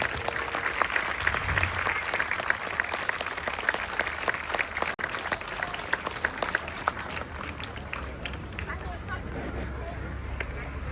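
Audience applause at a memorial charity concert welcomes a singer, a dense, sustained clapping from a large crowd that thins toward the end, with some crowd murmur beneath.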